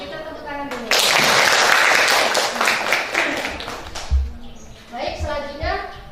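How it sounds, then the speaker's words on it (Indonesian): Classroom of students clapping together for about three seconds, a dense burst of hand claps that rises abruptly and fades, with a teacher's voice speaking before and after. "Kita tepuk tangan dulu"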